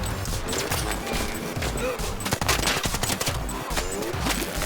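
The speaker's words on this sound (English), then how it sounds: "I'm being shot at!" Rapid, sustained gunfire from the video game Arc Raiders, dense overlapping bursts like automatic weapons and a fusillade, loud and continuous throughout with faint voices underneath.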